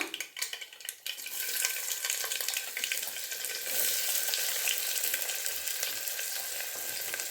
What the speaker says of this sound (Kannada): ಈಗ ಈರುಳ್ಳಿ ಹಾಕೊಂಡ್ಬಿಡೋಣ